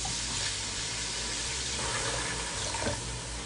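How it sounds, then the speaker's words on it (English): Water runs steadily into a soup pot of tomato and vegetable soup, a constant loud splashing gush with no talking. "And I'm just gonna add some water."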